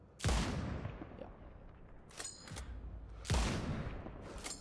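Two loud explosions in the video game Sniper Ghost Warrior Contracts 2, each a sharp booming blast with a fading rumble, separated by a few seconds with a smaller burst between them.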